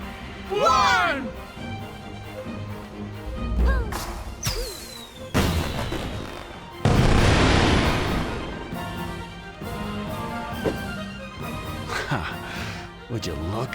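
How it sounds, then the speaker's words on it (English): Fireworks whistle upward and burst with loud crackling bangs, one big blast standing out, while voices talk around them, in the video game Blade and Soul. "aim your firework at the sky, not at people"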